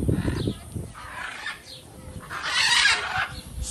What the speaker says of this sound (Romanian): Am ajuns la zoo și ne întâmplă niște papagali.